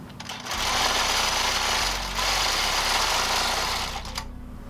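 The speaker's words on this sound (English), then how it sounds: "So we're going to run a few stitches here" Longarm quilting machine running a few stitches, a steady loud mechanical whir with a rapid needle rhythm that continues for several seconds, briefly dips in the middle, and then winds down and stops.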